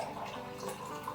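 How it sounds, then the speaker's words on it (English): Coffee poured into a cup makes a short, steady liquid trickle with a rising gurgle, close and fairly quiet, with no voices. "I'm gonna pour myself some coffee"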